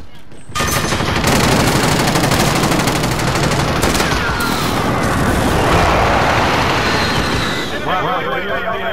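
Sustained automatic gunfire and bursts in Call of Duty: Modern Warfare, loud and close, rattling continuously for several seconds with explosive impacts before trailing off.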